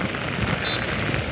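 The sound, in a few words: heavy monsoon rain in Mumbai street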